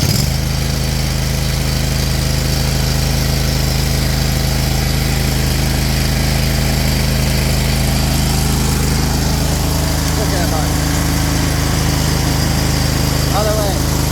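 A Hustler Raptor 54 flip-up deck riding mower's engine catches and runs loud and steady right from the start, a constant close droning rumble with people talking faintly over it.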